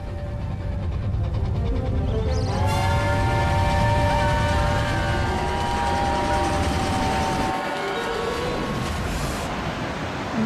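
A train passes over a railway viaduct built in 1897, a loud steady rumble with sustained metallic tonal whine running throughout, heard from nearby in the Scottish hills.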